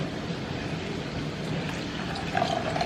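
Milk and water are poured together into a cup, a soft continuous splashing trickle that stays fairly quiet and steady.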